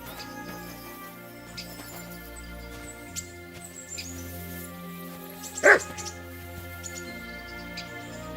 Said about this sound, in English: Barking.